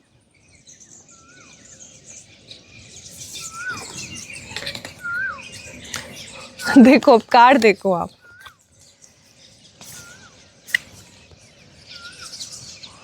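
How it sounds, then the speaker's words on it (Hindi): Birds chirp outdoors behind a person talking, with short scattered calls throughout and a brief burst of wing flapping or louder bird activity in the middle. "अभी देख रहे हो आप चिरपरिंग कितनी ज्यादा हो रही है मेरे पीछे"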